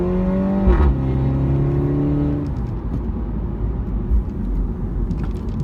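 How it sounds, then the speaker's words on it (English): MINI Cooper S Auto with 210 bhp accelerating hard from 0 to 60 mph out of a junction: a loud, close engine note climbs through the gears, with a gearchange dip, then settles into a steadier roar. "this next test is a test of 0 to 60 miles an hour"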